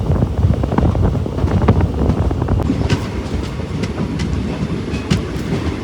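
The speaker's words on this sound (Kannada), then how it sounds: "ನಮ್ಮ ಟ್ರೈನ್ ಯಾಕೆ ಸ್ಲೋ ಆಯಿತು ಅಂದ್ಕೊಂಡೆ." A passenger train runs on a railway track through the Nallamala Forest between Srisailam and Ballari, heard from on board as a steady close rumble with rhythmic clacking and wind noise.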